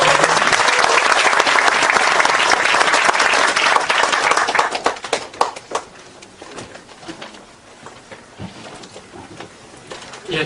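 Delegates at a party founding convention applaud, with loud, dense clapping filling the hall for several seconds before it thins out into a few scattered claps and room noise.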